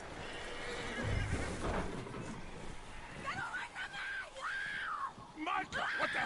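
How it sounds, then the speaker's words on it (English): A skittish horse in a PS4 video game lets out several shrill whinnies and snorts amid hoof clatter and outdoor bustle, loud and close. "That looks like a decent horse."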